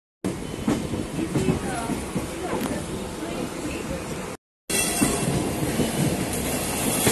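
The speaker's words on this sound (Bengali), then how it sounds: "তারকেশ্বর লোকাল ছেড়েছে" A Tarakeswar local train pulling out of Howrah rumbles and rattles steadily with clattering wheels and metallic squeals, heard loud and close from on board, broken by a brief dropout partway through.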